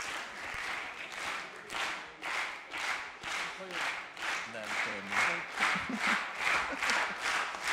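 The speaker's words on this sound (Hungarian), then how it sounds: "És önöknek a nagy taps, akik gyönyörűen énekeltek." An audience applauds after a singing performance at the closing ceremony of Összetartozás Hete (Week of Togetherness) in Pocsaj, Hungary. The clapping comes in steady rhythmic bursts, as if clapping along, and continues for the whole stretch.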